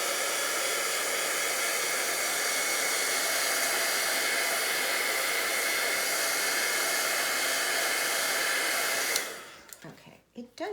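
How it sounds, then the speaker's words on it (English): Heat tool blowing over embossing ink on a handmade card, a loud steady airy whir held for about nine seconds before it cuts off abruptly, leaving faint handling sounds. "I'm just going to gently give a little bit of the heat tool to it"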